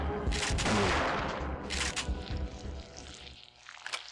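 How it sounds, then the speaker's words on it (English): Booming shotgun blasts in the Parasite Eve 2 video game, two heavy shots close together and loud, followed by quieter game sounds and a final sharp hit. "Yeah, that shotgun is real nice."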